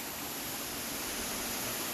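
Steady rushing roar of a waterfall inside a cave, continuous and even with no breaks, heard alone.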